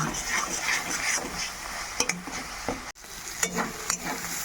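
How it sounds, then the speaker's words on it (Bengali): Spices sizzle in hot oil while a utensil stirs and scrapes the pan, a steady crackling fry up close. "এবার সব মশলা মিলিয়ে কষিয়ে নিচ্ছি"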